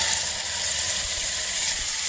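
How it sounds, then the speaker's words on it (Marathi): Onion and paste sautéing in a pan, a steady bright sizzle that holds constant and close throughout, with no voices. "त्याला पण मस्तपैकी छान असं परतून घेते."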